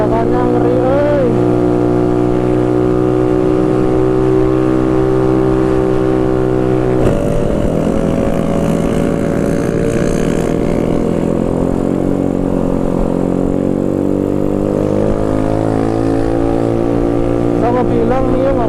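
Yamaha Mio scooter engine droning loudly and steadily as it climbs a steep hill, pitch shifting partway through the strain, with wind noise and occasional voices over it.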